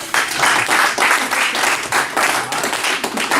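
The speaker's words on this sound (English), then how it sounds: "Round of applause." Lively audience applause at a psychology clinic session, close and loud, with dense clapping that swells in waves throughout.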